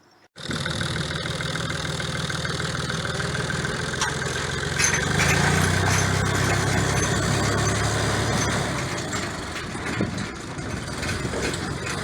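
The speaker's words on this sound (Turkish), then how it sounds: "Bu da bizim traktör. Bunun da yakında tanıtımını yaparız. Bu 550 beygir." A 550 horsepower farm tractor engine starts abruptly and idles steadily, a deep, close rumble that swells slightly in the middle before settling back to an even idle.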